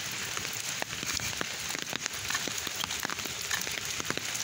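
Steady rain over a waterlogged village garden in rural Bangladesh, an even hiss dotted with frequent sharp drip ticks, quiet and without talk.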